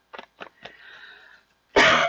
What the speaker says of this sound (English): I don't know why I always start coughing when I start talking.